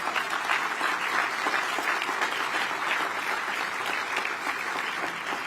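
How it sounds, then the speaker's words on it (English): Sustained, dense applause from a large audience at a civic announcement event about the World Cup in Kansas City, steady and loud throughout with no talk over it. "you owe them all a very, very good round of applause"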